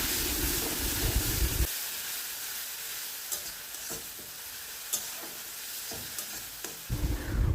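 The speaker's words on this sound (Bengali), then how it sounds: "মশলাটা কষানোর সময় এখানে একটু জল দিয়ে দেব, যাতে গুঁড়ো মশলাগুলো খুব ভালোভাবে কষা হয়ে যায়।" Ground spices fry in a pan with a splash of water, a loud hiss at the start and end with a softer, steady sizzle and a few light stirring clicks in between, with nobody talking.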